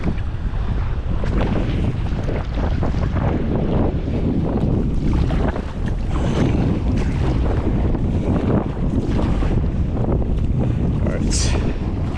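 Strong wind roars across the microphone while sea waves wash and slap around an Advanced Elements AirFusion inflatable kayak, a loud steady rush with someone speaking now and then beneath it.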